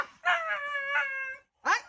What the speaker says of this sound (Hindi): कुत्ता चिल्ला रहा है